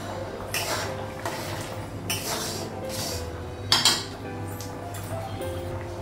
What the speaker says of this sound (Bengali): ঢাকনাটা উঠানো।